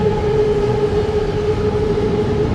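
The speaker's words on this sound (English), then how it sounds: "See that? BTS heading past." A BTS Skytrain on the elevated line in Bangkok rolls past with a steady low rumble and a sustained tonal whine, loud and continuous against busy city noise.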